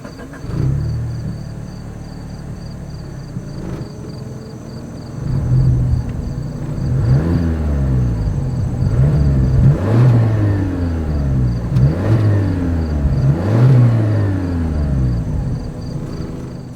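A 2025 Mazda 3 hatchback's exhaust is revved repeatedly, about five rising and falling blips after an idle start, each swelling close and loud before settling back.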